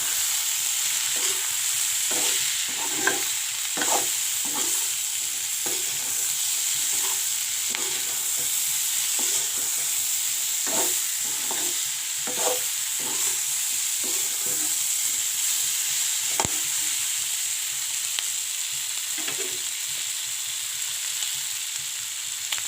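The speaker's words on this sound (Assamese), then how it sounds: "এয়া চব্জিখিনি অলপ সিজিছে আৰু হালধি নিমখ দি দিলোঁ। এয়া লৰাই আছোঁ" Cauliflower fries in a pan with turmeric and salt under a constant loud sizzle, while a utensil stirs it in repeated scraping strokes throughout.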